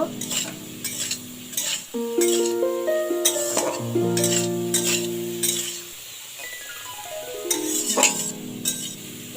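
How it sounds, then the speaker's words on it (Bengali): A spoon stirs fried potatoes with poppy seeds in a pan, with ringing metallic clinks and scrapes over a soft sizzle, repeated in uneven bursts. "এবার এটাকে আমরা নেড়ে নেব"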